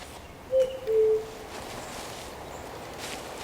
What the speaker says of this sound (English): I heard that. Cuckoo bird or something.